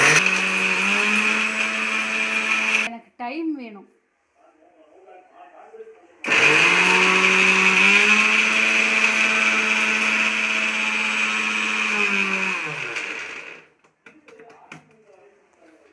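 A mixer grinder grinds spices, whirring loudly in two long bursts, with a brief spoken pause between them.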